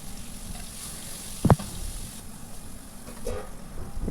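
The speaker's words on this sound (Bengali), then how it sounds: "এর মধ্যে নুন হলুদ দিয়ে একটু ভেজে নেব" Potatoes sizzle softly in oil in a wok with salt and turmeric, a steady low hiss broken by one sharp knock of a utensil midway; close and fairly quiet, with no speech.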